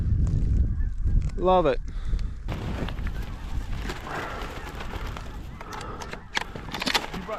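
Snow geese honk in a Manitoba field during a goose hunt, with a brief close burst of calls rising over steady wind noise and a few short voices spoken nearby.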